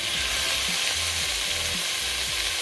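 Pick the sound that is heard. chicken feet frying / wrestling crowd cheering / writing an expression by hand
chicken feet frying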